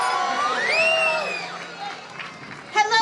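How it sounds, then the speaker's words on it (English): An outdoor crowd at a city Christmas tree lighting in Peekskill cheers and whoops for Santa Claus, with shrill voices rising over scattered clapping before quieting briefly and swelling again. "A round of applause for Santa Claus."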